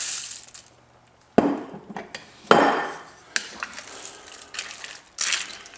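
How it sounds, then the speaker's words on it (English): Noodles stirred into chicken broth in a pot for homemade chicken noodle soup, giving a few sharp utensil knocks and scraping clatters against the pot, close and clear with no talk. "I'm going to give this a stir, make sure they all get under the broth."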